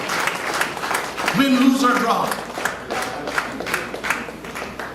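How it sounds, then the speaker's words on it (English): Applause rises briefly from a crowd at a party conference, a short burst of clapping and cheering that runs under a speaker's amplified voice at the podium. "I want a loud round of applause for that."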